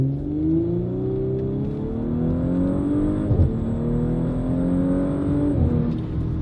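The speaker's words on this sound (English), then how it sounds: "I'm gonna do like a rolling launch right here" Tuned Audi B9 S4 with upgraded engine and transmission tuning pulls hard in a rolling launch, engine note climbing steadily through the revs with a quick shift break midway, loud and close throughout with no talking.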